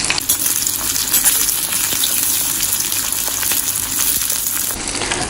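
Sliced onion frying in hot oil in a pan for Malvani chicken masala, a steady close sizzle running throughout with a few faint clinks, no voices.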